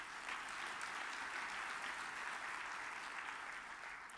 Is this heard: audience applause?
yes